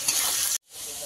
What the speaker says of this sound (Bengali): পেঁয়াজগুলো লাল লাল করে ভাজা হবে।